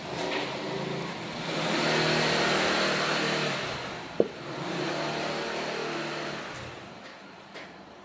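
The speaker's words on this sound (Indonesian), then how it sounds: "Maaf nih, lagi ada motor." A motorcycle passes on a road nearby, its engine swelling to a loud broadband roar in the middle and then fading away, with a brief sharp click partway through and no talk over it.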